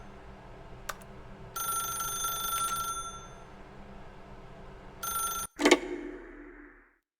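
A telephone rings in The Stanley Parable, two bursts of bright electronic trilling separated by a pause, ending in a sharp click and rustle as the receiver is picked up.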